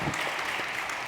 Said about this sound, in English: Ladies, can I get a round of applause?